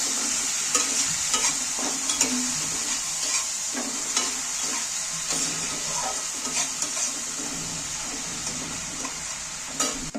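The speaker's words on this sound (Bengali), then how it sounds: "এইটাকে আবার আমি তেলের মধ্যে একটু নাড়াচাড়া করে নেব" Ginger-garlic paste is stirred through hot oil for an almond chicken dish, producing continuous sizzling with repeated scraping strokes of a spoon, close and steady throughout.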